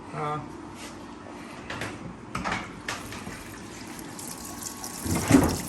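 Water flushing out a Dana 44 axle into a catch can, heard as quiet intermittent splashes and spurts with a few light knocks against a low background.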